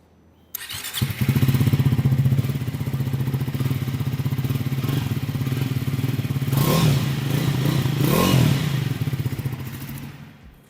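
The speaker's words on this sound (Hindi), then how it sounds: "सो कुछ इस तरह का एग्जॉस्ट नोट मिलता है विद द स्क्रैम्बलर 400X" Triumph Scrambler 400X motorcycle, a 400cc single, starting and settling into a steady idle through its dual-barrel exhaust, with two brief throttle blips before the engine shuts off, close and loud with no talk.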